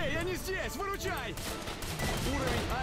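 Heavy gunfire with bursts and an explosion crackles in a first-person shooter set in the Zone of S.T.A.L.K.E.R., someone talking loudly over much of it.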